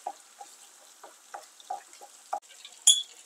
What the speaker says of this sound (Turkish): Soğanlarımla birlikte kavuruyorum.